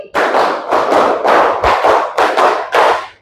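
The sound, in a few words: children clapping hands in rhythm, classroom clap game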